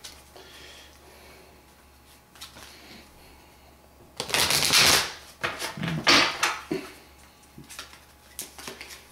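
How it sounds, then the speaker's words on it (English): Cards being shuffled up close, quiet at first, then bursts of riffling and flapping in the middle before trailing off into light handling. "I'm shuffling the cards"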